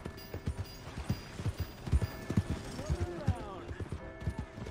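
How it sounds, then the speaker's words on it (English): Horse hooves from the video game Red Dead Redemption 2 clop in a steady walking rhythm close by, with a short whinny partway through and someone speaking over them. "Aí eu fiquei andando muito nesse cavalo agora."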